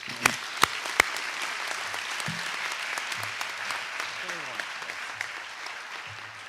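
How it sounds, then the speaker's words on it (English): A convocation audience at a dental medicine school ceremony gives a steady, warm round of applause for the guest speaker, with a few sharp nearby claps standing out and a voice speaking briefly over the crowd. "Please give a warm round of applause to our distinguished convocation speaker, Dr. Christopher Fox."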